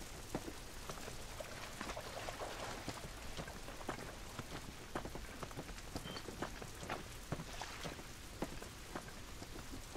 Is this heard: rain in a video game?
yes